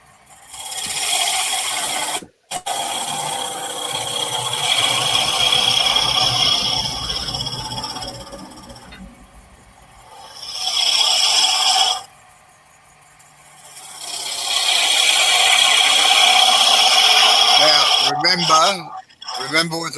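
A roughing gouge cutting wood spinning on a lathe, giving long loud rasping, scraping passes broken by short pauses, close and harsh throughout.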